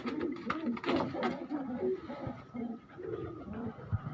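Pigeons coo softly and repeatedly in a breeder setup, their low rolling calls overlapping at close range.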